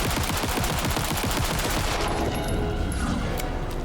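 A fully automatic pistol fired in the video game Alan Wake 2, a loud rapid string of closely spaced shots ripping steadily for about two seconds, then breaking off into ringing echoes and brief metallic clinks.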